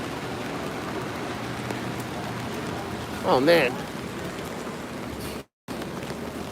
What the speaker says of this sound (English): Should not be out in the rain like that.